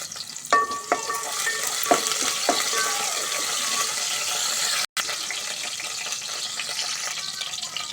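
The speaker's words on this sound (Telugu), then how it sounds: "పోపు చేసుకొని ఉల్లిగడ్డ వేసుకొని మంచిగా వేగనివ్వాలి" Onions sizzle in a tempering for a bottle gourd and green chilli curry, with sharp spoon-on-pan clinks early on over a steady close frying hiss and a brief dropout midway.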